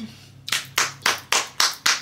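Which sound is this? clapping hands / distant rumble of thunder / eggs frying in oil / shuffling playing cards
clapping hands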